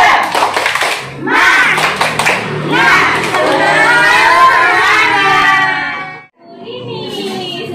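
Young children at an Indonesian preschool orientation perform a rhythmic cheer clap together, quick patterned claps mixed with shouted chanting voices, then a brief pause before more group voices.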